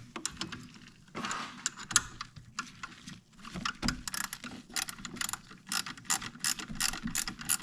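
A hand ratchet tightens a bolt on the front fork of a Honda Goldwing GL1500, giving rapid, close clicking bursts in uneven runs with short pauses between them. Nobody speaks.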